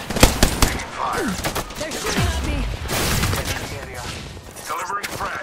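Rapid gunfire from the Apex Legends video game crackles in dense bursts and volleys, mixed with impacts and game effects throughout.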